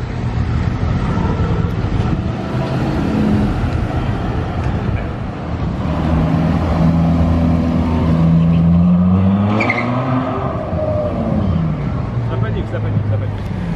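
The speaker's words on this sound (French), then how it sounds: "Et maintenant on a un CLK Black Series qui débarque." A Mercedes CLK Black Series pulls in among supercars on a Monaco street, its engine note rising and falling over steady traffic rumble and crowd chatter, with people talking nearby throughout.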